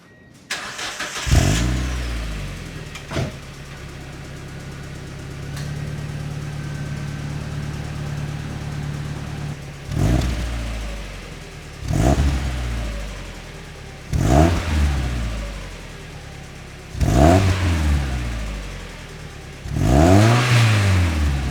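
An NB2 Mazda Miata with stock exhaust cranks and starts, idles steadily, then revs up sharply in five or six separate bursts, each dropping back to idle.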